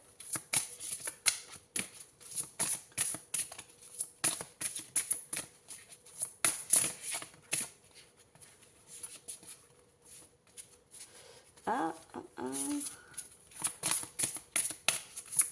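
Tarot cards being shuffled and drawn, giving soft, close, papery riffles and flicks in quick bursts with short pauses, fairly quiet, with a brief tonal chirp near the end and no talking.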